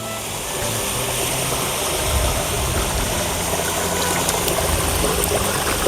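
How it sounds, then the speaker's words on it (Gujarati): Water flows over rocks in a stream at Kadiya Dhro river canyon in Kutch, a steady broadband rush that stays loud and continuous from start to finish. "અહીંયા પણ પાણી ચાલુ છે"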